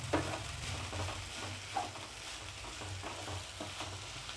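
Sliced okra (bhindi) fries quietly in a pan, a soft continuous sizzle broken by periodic scraping strokes as it is stirred now and then.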